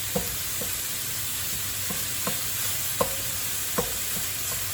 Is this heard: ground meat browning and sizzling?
yes